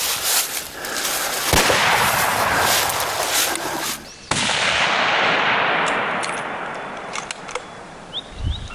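Gunshots ring out during a seal hunt outdoors, two sharp loud cracks a few seconds apart. Each crack stands over a steady background of wind or water noise, with faint scattered clicks after.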